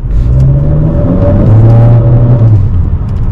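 A 2020 Honda Accord Sport with its 2.0-liter, 252-horsepower engine pulls hard under acceleration, a loud, continuous cabin drone whose engine note climbs and shifts steadily, with no one talking.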